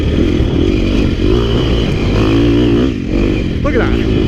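A KTM 250 XC-F dirt bike engine revving and running steadily, loud and close with a buzzing, fluctuating throttle, while someone talks over it.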